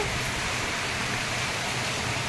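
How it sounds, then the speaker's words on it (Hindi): Heavy monsoon rain pouring in Itarsi, a dense continuous hiss of downpour at moderate level with no talk. "आज देखो हमारी इटारसी में कितनी झमाझम बारिश हो रही है, कितना तेज पानी है देखो"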